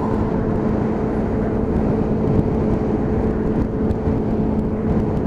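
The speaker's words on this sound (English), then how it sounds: "But absolutely beautiful little scooter to ride." A Royal Alloy GT125 scooter with a loud aftermarket exhaust drones steadily while riding in traffic, a continuous engine and road hum heard up close with no talking.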